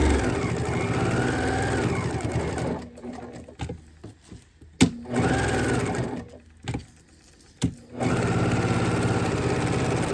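A sewing machine stitches Velcro onto a fabric cord wrap, running in a steady close whir, then stopping briefly twice with small clicks and adjustments before starting up again.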